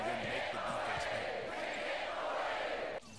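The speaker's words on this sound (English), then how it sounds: "the crowd might be too loud" Arena crowd noise from the NBA 2K16 basketball video game roars as a steady, dense wash, with a person talking over it before it drops off sharply near the end.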